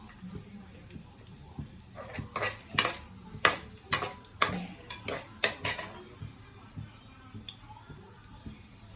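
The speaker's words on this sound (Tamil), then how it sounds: "அது நல்லா பொரியட்டும், கடலைப்பருப்பு கலக்கட்டும்." Chana dal frying in a pan while a spoon stirs it, giving a cluster of sharp metallic clinks and scrapes over a faint, low sizzle, which then trail off to quiet frying.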